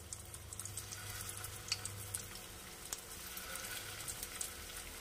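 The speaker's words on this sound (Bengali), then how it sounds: "কমিয়ে কাবাবগুলো দিয়ে দেব। দিয়ে প্রথমে একটু শ্যালো ফ্রাই করব।" Paneer kebabs shallow-fry in hot oil in a pan over a low flame, a soft steady sizzle scattered with small crackles and pops. Close and fairly quiet, with no talk.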